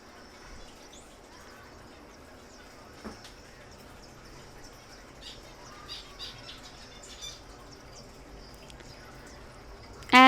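Birds squawk and chirp in scattered bursts at a busy indoor bird expo among chickens, the calls fairly faint against a low room murmur, with a louder squawk right at the end.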